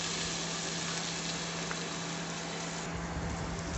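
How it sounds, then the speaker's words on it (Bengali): Vegetables lightly frying in a pan with a little cumin powder added, giving a steady, close sizzle and crackle that continues evenly with no talking. "সবজিগুলো বেশ খুব বেশি ভালো করে ফ্রাই করতে হবে না, একটু হালকা ফ্রাই করলেই হবে"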